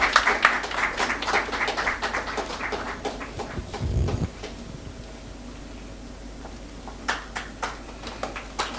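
Scattered audience clapping at an industry-academia launch event, sparse and uneven claps that fade to near quiet, then a few more claps return at the end.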